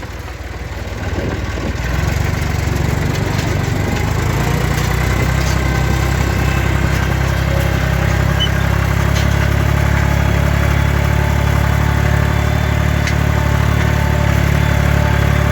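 A tractor engine idles steadily and loudly close by, a constant low rumble that settles in after a brief rise at the start and holds unbroken throughout.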